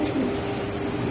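Pigeons at a market stall selling birds for 300 taka each coo softly in a low, steady murmur that runs through the whole short stretch against busy background noise.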